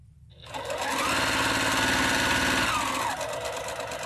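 An embroidery machine fitted with a cap driver sews out a design, its rapid needle stitching rising to a steady, loud mechanical whir with a high tonal whine before easing off near the end.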